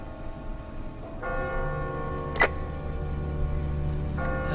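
A church bell tolls from a bell tower in The Walking Dead video game: two deep, resonant strikes with long ringing decay over a low ambient hum, plus a brief click between them, and no talking.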